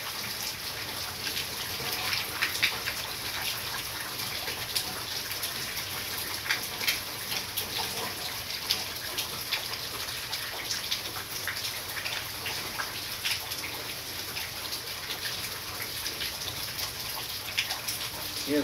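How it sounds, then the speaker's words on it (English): Steady rain falling outdoors in Texas, a dense continuous patter of drops hitting surfaces at an even level throughout, with no talk over it. "Yeah, it's raining in Texas."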